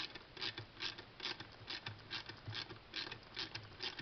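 A 10 millimeter lock nut being tightened down on a Mitsubishi TD04 HLA 19T turbo assembly for a Subaru EJ20Y, a quiet, steady series of rhythmic ratchet clicks repeating about twice per second.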